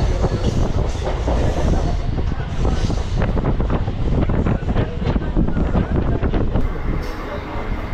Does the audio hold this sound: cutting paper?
no